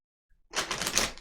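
A quick riffle of tarot cards being shuffled, a short crisp burst of flicking and slapping close by.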